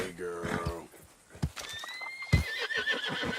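Red Dead Redemption 2 common horse with a strawberry blonde mane and tail: a close, clear neigh, then snorts and clip-clopping hooves, with a voice speaking briefly.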